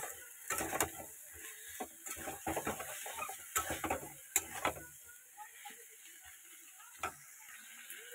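Fried vegetables and soya chunks being sautéed in a pan: quiet, irregular scraping and clicking stirs over a faint sizzle, with longer gaps toward the end.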